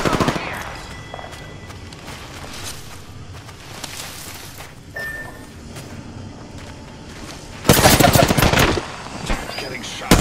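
Gunfire in Apex Legends, with scattered shots and scuffling through most of the stretch, then a loud dense burst of rapid fire near the end.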